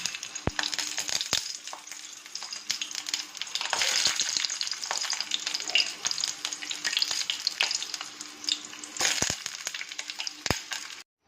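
Pointed gourds stuffed and pinned with toothpicks fry with a soft, steady sizzle in a wok, punctuated by sharp taps and clicks as they are moved.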